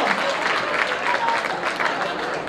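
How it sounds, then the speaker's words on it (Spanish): A large audience claps at a Santa Cecilia concert and humour festival evening, a steady wash of many hands applauding at an even level, with a few cheers or voices mixed in. "Un aplauso grande para la"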